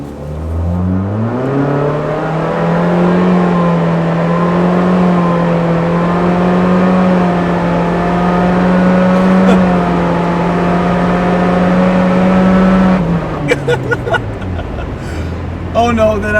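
A rental Nissan Versa accelerates hard, the engine note rising steadily and then holding a loud, strained drone near full revs for about ten seconds before easing off, heard from inside the car.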